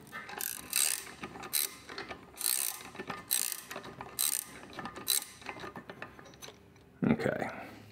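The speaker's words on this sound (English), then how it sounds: "Looks like this might want to be one of those rare times where a ratchet spanner's reasonably useful." A ratchet spanner works on a Johnson 30 HP outboard lower unit during bearing removal, giving a close run of about seven quick metallic ratcheting bursts separated by short pauses.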